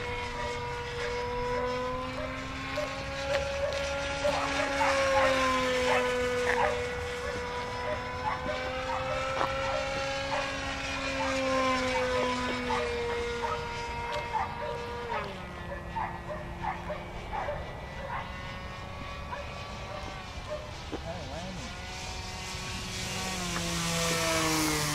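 An Edge 540 V3 800mm radio-controlled model plane flies overhead, its propeller whine rising and falling steadily outdoors, with a dog barking now and then and occasional voices.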